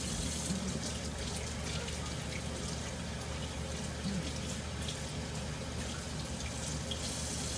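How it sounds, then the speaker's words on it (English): Steady running tap water splashes continuously, a soft broadband rush with faint background clatter. "Let's rinse my hands."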